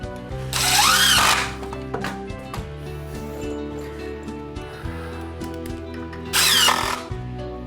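A power drill drives screws into lumber in two short, loud whirring bursts about five seconds apart, near and alone between a low steady background hum.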